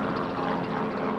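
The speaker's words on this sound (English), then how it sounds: "Sorry about the helicopter." A helicopter passes overhead as a steady, broadband engine and rotor drone, moderately faint and constant throughout the short stretch with no other sounds on top.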